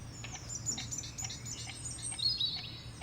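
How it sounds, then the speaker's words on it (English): Birds sing in the Louisiana woods and bayous, with repeated high chirps and twittering calls at a moderate distance over a low, steady background hum. "the woods and bayous of this part of Louisiana are stiff with birds"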